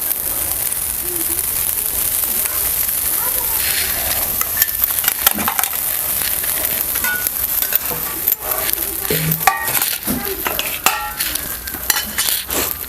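Pav bread rounds roasting in oil on a flat pan for Kutchi dabeli, a steady close sizzle with clinks of a spatula turning and pressing the bread.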